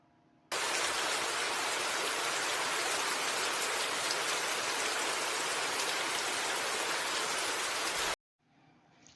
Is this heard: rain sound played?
yes